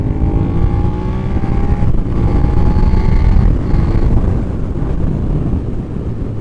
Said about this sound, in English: if you want to drop down right now, so say we're in fifth gear and I want to be in third